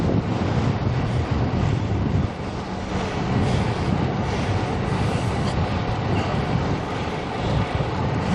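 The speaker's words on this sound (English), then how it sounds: "good grief, this wind" Strong wind buffets the microphone while cycling in Albuquerque, a loud, continuous broadband rush with gusting swells that holds steady across the whole stretch with no voices.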